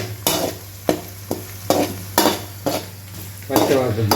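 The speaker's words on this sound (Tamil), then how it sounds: "கொஞ்சம் கருவேப்பிலை அது இந்த வெங்காயத்தை கூட சேர்த்து போட்டுருங்க நல்ல பொன்னிறமாக வர வரைக்கும் நல்லா வதக்கி எடுக்கணும்" Onions and curry leaves frying in hot oil for a chicken gravy, a steady sizzle broken by regular scrapes and stirs of a spoon in the pan, close and with no talk.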